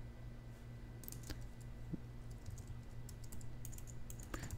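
Computer keyboard typing and mouse clicks at a desk, scattered light key taps and a few distinct clicks heard faintly over a steady low electrical hum.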